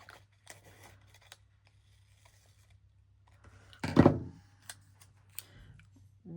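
Scissors snip through a paper sheet, cutting it in half, as a series of small crisp clicks followed by one louder slicing burst in the middle, close up and quiet overall.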